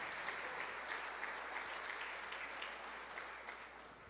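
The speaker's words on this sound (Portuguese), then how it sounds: "salva de palmas." A church congregation applauds a visiting pastor with a long, even round of clapping, many hands at a moderate distance, the sound holding steady and easing slightly toward the end.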